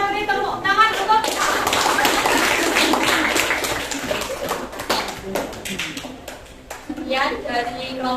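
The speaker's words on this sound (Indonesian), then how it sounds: "Kita beri tepuk tangan untuk" A classroom group applauds after a group presentation, a burst of clapping that swells after a voice and runs for several seconds before thinning out as speech returns near the end.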